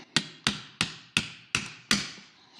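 A hammer taps repeatedly on a metal part of a 1970 Buick being reassembled, six sharp, evenly spaced strikes at close range with short ringing decays and no talking.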